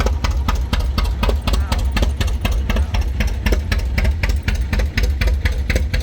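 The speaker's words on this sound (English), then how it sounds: "And a John Deere 460T. T stands for tricycle. Coming into view." A John Deere 460T tricycle tractor rolls past in a tractor parade at the Albert City, Iowa threshermen and collectors show. Its engine chugs in a steady, loud, rhythmic knock close by.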